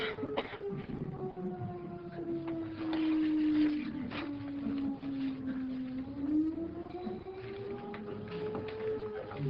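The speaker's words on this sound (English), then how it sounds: "just let the siren cycle so we can hear you" A civil defense siren cycles through a continuous wailing tone that slowly dips and rises in pitch, loud and steady throughout with faint background noise.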